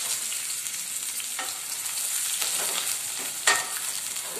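Onions fry in hot oil for a beef paya masala with a steady, close sizzle, punctuated by a few sharp stirring scrapes and a louder clack near the end.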